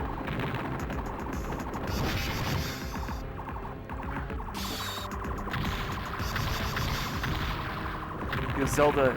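Rapid video-game gunfire rattles in dense bursts under a constant hum, mixed with game noise.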